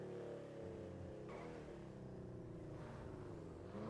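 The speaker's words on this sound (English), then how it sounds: "hearing the engine noise because I'm so used to playing with no sound" A car engine in the RedlineRP driving game drones and revs steadily, with shifting tones and a gear change partway through. The sound is faint and continuous, with no voices.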